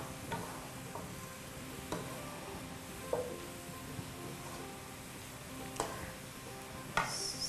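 Onions fry in oil in a cooking pot, a soft constant sizzle under occasional sharp clinks and taps of a utensil, fairly faint and with no talking.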